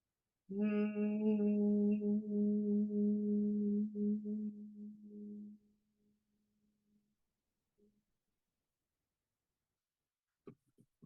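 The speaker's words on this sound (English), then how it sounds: "now we're going to hum" Steady low humming from a few voices, held for about five seconds, then fading out into near silence with a couple of faint clicks at the end.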